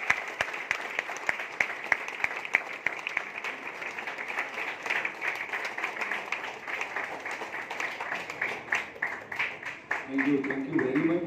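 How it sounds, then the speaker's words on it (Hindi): Meeting audience at Chandi Bagh, Sector 87, Faridabad breaks into loud, steady applause lasting several seconds, dense clapping throughout with some voices mixed in and the cheering tapering slightly near the end. "जोरदार तालियां"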